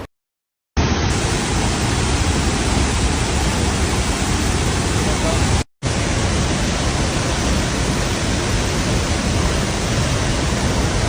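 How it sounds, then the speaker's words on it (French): Waterfall in Costa Rica, a loud, steady, close roar of falling water that fills the scene, interrupted only by a brief momentary dropout. "La cascade est là-bas en bas."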